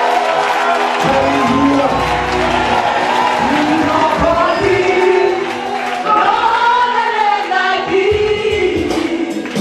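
A church congregation at a special French-language worship service of miracles and healings acclaims and cheers for Jesus, a loud sustained crowd roar with shouts and whoops, with voices calling out over it.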